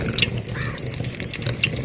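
Water trickling and splashing with small drips as it pours into batter, a light continuous pour close by, with faint background noise and no talking.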